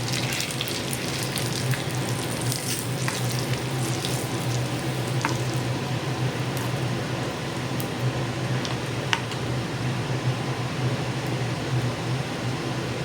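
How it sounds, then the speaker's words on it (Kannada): Mustard seeds and cumin sizzle in hot oil for a tempering for wheat-rava khara pongal, with asafoetida and cashews joining; a steady close crackle and hiss runs throughout with scattered sharp pops and no talking. "ಈಗ ಸಾಸಿವೆ ಸಿಡಿದಿದೆ, ಜೀರಿಗೆ ಹಾಕೋಣ"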